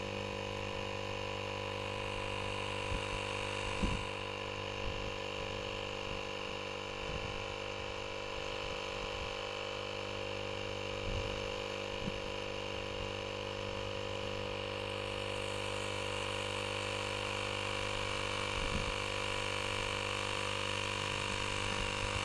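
An AVAPOW AP18 portable tire inflator runs without pause, filling a dry-rotted tire with a steady electric motor drone and buzzing hum that holds level throughout, with a few faint knocks on top.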